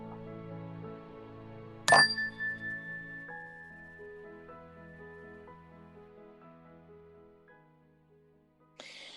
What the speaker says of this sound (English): we'll begin this meditation with a ring of the chime